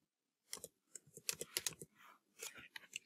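Quick clicks from a computer keyboard as a spreadsheet formula is typed, irregular bursts of close, crisp keystrokes with brief pauses between them, quiet overall.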